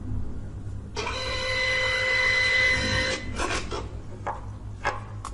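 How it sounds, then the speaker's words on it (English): A receipt printer for a point-of-sale system, switched on with the feed button held, prints its test page: a loud, continuous whirring buzz for about two seconds, then a few shorter ratcheting feed bursts and clicks nearby. "turn on your receipt printer and release the feed button. So just wait for a few seconds."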